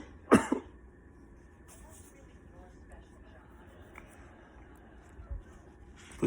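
A single sharp cough bursts out near the start, followed by a quiet stretch of room tone and a softer throat sound toward the end, close to the microphone during a spoken devotional reading.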